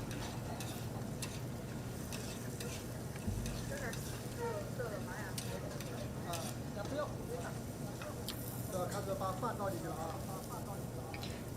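Pickled meat and green onions stir-fried in a wok, a constant busy sizzle with stirring clatter, while people talk over it throughout.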